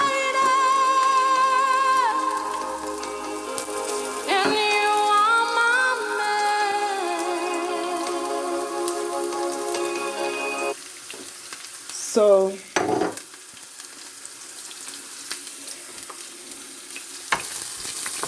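Onions, garlic and ginger tipped into hot oil in a pan, with a steady loud sizzle and frying that runs throughout, broken by a few sharp bursts of stirring and clatter near the end; no talking.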